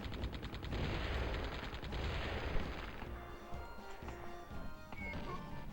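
Rapid bursts of gunfire from a mounted gun in the video game Gex 3, a dense rattling barrage that fills the first half, then gives way to quieter game effects and tones.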